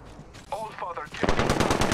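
Apex Legends automatic weapon fire bursting in rapid, evenly spaced shots, loud and close, following a brief electronic game sound.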